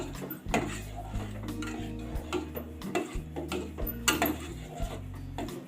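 Spoon stirring bottle gourd (lauki) sweet cooking in milk in a metal pan, irregular scraping and clinking strokes with a steady low hum underneath, close and moderately loud.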